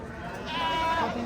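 A goat at a livestock market gives one near, drawn-out bleat that swells midway through, set against a busy crowd murmur.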